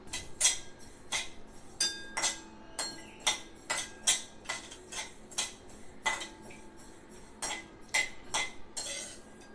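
Garden cress seeds (halim) being roasted in a pan bring a run of sharp, irregular metallic scrapes and clinks from a spoon against the pan, close and fairly quick, without any talking.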